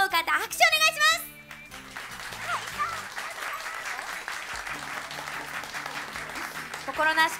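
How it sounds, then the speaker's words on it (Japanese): Applause from a live audience in Akihabara voting for a pair of performers, a modest, steady clapping that runs under music and an announcer's voice, rising briefly at the start and again near the end. "奈々子さん、ゆいさんペアが良かったと思う方、拍手お願いします。"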